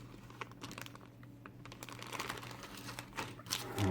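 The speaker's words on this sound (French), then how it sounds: "Premier sachet. On va ouvrir ça." Plastic bag of parts from a 1/35 Trumpeter KV-1 tank model kit being opened, with close, soft crinkling and rustling that grows busier and louder toward the end.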